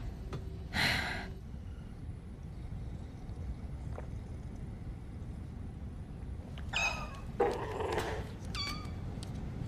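A cat meows close by, one meow near the start and a couple more near the end, over a quiet background hum.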